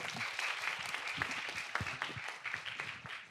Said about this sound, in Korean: 한창수 교수님께 다시 한번 큰 박수 부탁드리겠습니다.